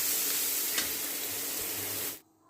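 Chopped onion, cumin seeds and dried red chili sizzling in hot oil in a pan, a steady bright hiss that cuts off abruptly near the end.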